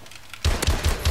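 Shots from the M1 Irons rifle in Call of Duty: Advanced Warfare, a rapid run of about four punchy, evenly spaced reports beginning after a brief quiet lead-in, loud and close with no talk over them.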